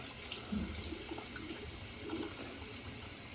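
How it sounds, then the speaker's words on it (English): Water runs steadily from a tap as a double-edge safety razor is rinsed off, a soft, continuous splashing close by. "Wash that off."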